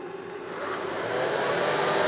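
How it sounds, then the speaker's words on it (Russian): Hair dryer powered through a 4000 W pure sine wave 220 V inverter, a steady whirring blow that swells slightly louder partway through and holds constant. "И включаю фен."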